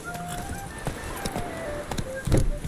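Horse hooves gallop in a steady clip-clop rhythm across the Witcher 3 game world, moderately close and continuous, with a louder thud near the end.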